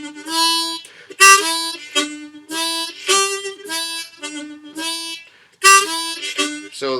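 Blues harmonica played on the two lowest holes, bright reedy notes in short phrases broken by brief rests, loud and close with no voice over them.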